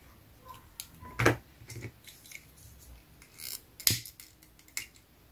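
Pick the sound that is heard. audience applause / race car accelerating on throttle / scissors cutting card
scissors cutting card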